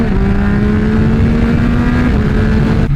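A Yamaha R9 motorcycle engine pulls hard under acceleration, a loud, close, steady drone with a rising whine that holds for a few seconds with no voices over it.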